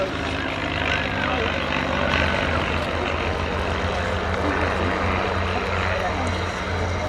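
North American Navion propeller plane at an air and car show, its engine droning steadily and fairly loud for several seconds, with outdoor crowd noise and a voice faintly underneath.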